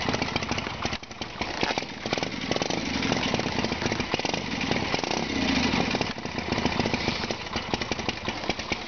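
A 1977 Harley-Davidson Shovelhead motorcycle, a former Shriner bike, idles with a steady rough, lumpy engine rumble heard close and continuously, with no talk.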